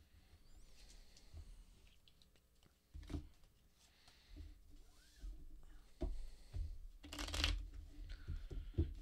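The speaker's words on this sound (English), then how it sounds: "I will shuffle." A deck of Magic cards is shuffled during a cube game, with repeated soft riffles and snaps in irregular bursts, close and fairly quiet, with no talking.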